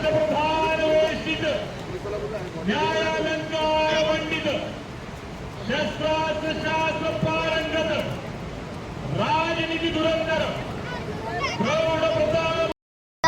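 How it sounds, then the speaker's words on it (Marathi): A crowd on Bhatye Beach in Ratnagiri loudly chants Shivgarjana, the Maratha war cry, before an open-water swim race. Strong, harmonic shouted phrases come in about five bursts, separated by brief lulls, and continue until the clip cuts off abruptly. "इथे आता शिवगर्जना होत आहे"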